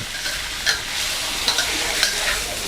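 Spicy catfish with stink beans stir-fried in a hot pan, a steady loud sizzle broken by a few sharp spatula scrapes and clacks, close and without speech.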